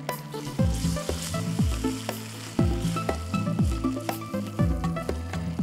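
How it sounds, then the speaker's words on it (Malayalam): Chicken fries in oil with barbecue sauce, a loud, close sizzle with repeated bursts of intense crackling as the pieces are stirred and turned, no voices. "ചിക്കൻ ആദ്യം വറുത്തെടുക്കുമ്പോൾ ഒരു കാര്യം ആലോചിച്ചോണം"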